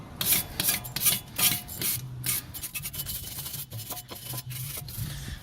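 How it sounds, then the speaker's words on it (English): A wire brush scrubs the front brake disc surface of a 2009 Ford Escape in quick, rhythmic rasping strokes. The sound is close and steady, with no voices. "we're gonna take a wire brush, and this is completely optional, and we're just gonna clean off the surfaces here"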